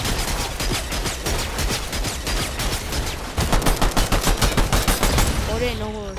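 Rapid gunfire in the video game Fortnite crackles in dense, repeated bursts, loud and close, growing heavier midway before fading, with a player's voice briefly heard at the end.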